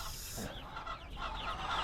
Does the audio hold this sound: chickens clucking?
yes